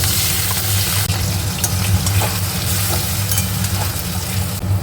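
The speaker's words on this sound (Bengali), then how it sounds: "আলুটা ভাজা ভাজা হয়ে গেছে এবার এর মধ্যে ওই যে আদা রসুন কাঁচা লঙ্কা টমেটো পেঁয়াজ যে বেটে রেখেছিলাম সেই মশলাটা দিয়ে দিলাম" Fried potatoes sizzle in a pan as a ground paste of ginger, garlic, green chili, tomato and onion goes in, giving a loud, continuous crackling fry with occasional stirring scrapes and no talking.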